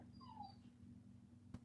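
A dog whimpers faintly in the background, a thin rising-and-falling whine under a low steady hum, followed by a brief soft knock.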